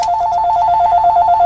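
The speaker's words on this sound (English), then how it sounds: "That was the phone." A telephone rings steadily with a continuous electronic warble, close and clear, with no talk over it.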